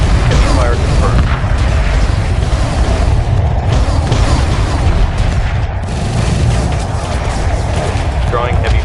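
Heavy weapons fire and explosions in the space strategy game Homeworld Remastered, a dense continuous rumble of booms and bursts, loud throughout, with voices talking over it.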